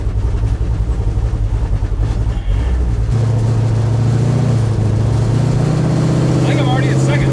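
A scrapped 1972 Buick Skylark's engine drones loud and close while driving, the low rumble rising in pitch as it accelerates, with a voice heard over it.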